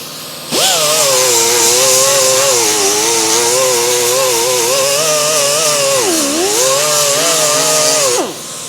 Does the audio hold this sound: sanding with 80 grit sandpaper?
yes